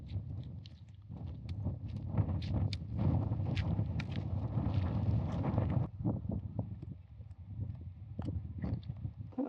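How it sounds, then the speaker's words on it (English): Strong wind gusts through the Norwegian mountains on a blustery day, a loud continuous rumbling roar buffeting the microphone, easing briefly near the end before picking up again. "It's been very windy and blustery."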